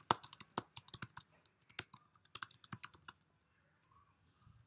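Someone types on a computer keyboard while editing in the Vim text editor: quick irregular bursts of crisp key clicks, close and clear, that thin out and go quiet near the end.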